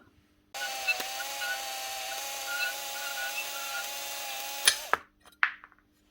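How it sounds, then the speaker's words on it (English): A power drill whines steadily for several seconds at close range, drilling out a screw on a 26-year-old Makita 9402 belt sander, then stops, followed by a couple of sharp metallic clicks. "Should be able to just drill that straight out."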